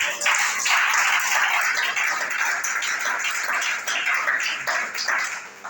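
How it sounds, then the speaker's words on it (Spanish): Church congregation applauding for the Lord: a steady, dense wash of many hands clapping close and loud, sustained throughout with no break. "Den ese aplauso al Señor."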